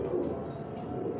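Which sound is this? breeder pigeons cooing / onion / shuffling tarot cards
breeder pigeons cooing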